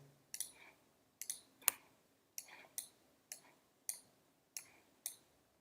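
Sharp computer mouse clicks in 3D modeling software, about ten distinct clicks in loose pairs, close and fairly quiet with no talking.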